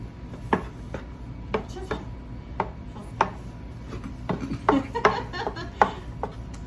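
A knife chopping through a sushi roll on a cutting board, a series of sharp, separate chops at an uneven pace, close and crisp, with soft talking underneath.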